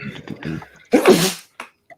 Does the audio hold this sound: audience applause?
no